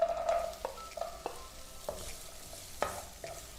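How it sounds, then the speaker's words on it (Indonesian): Carrots stir-fry in a pan for croquettes, the frying soft and low. Separate scrapes and clinks of a spatula against the pan recur every second or so. "Kita tumis lagi hingga dia matang."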